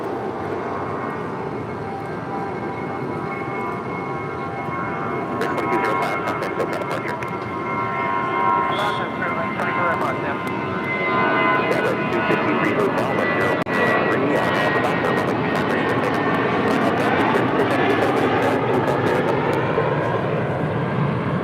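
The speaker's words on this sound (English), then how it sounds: "This is Spirit Airlines 2205 taking off to Puerto Vallarta on an A320." A Spirit Airlines Airbus A320 taking off at LAX builds into a broad, rumbling engine roar that thickens and grows louder over about twenty seconds, with wind buffeting and scattered crackles.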